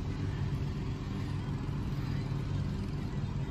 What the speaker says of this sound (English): Dad's cutting the grass, and got an exhaust leak on the lawnmower